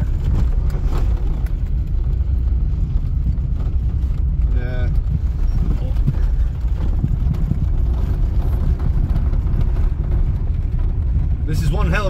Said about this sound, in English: we are going off-roading in a LADA Samara